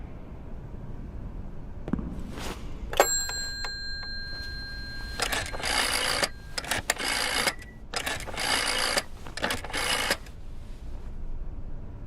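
Telephone in the Layers of Fear game being dialed and ringing, with a mechanical click, a few tonal beeps, then repeated bursts of bright ringing separated by short pauses.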